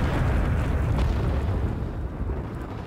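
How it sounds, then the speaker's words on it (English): An artillery strike lands in Rising Storm 2: Vietnam, a loud, deep, rumbling explosion that is strongest at the start and slowly fades over a few seconds, with no talk over it. "I request the artillery strike on the top"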